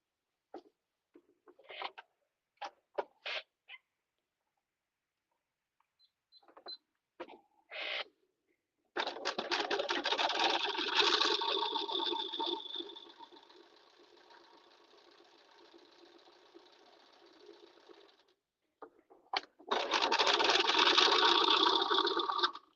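Home sewing machine top stitching culottes sewn from a thrifted tablecloth: short bursts at first, then a long steady whirring run, a slower stretch, and a final fast run.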